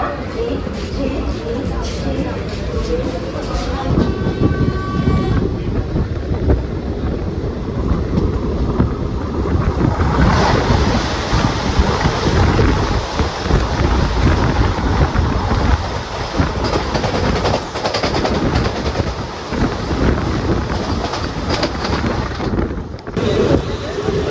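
The Mangaluru–Tambaram Express passenger train rumbles along steadily for the whole stretch, with wind buffeting and a loud, continuous roar, and voices talking faintly underneath.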